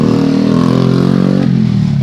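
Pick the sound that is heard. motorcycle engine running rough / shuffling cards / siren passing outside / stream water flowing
motorcycle engine running rough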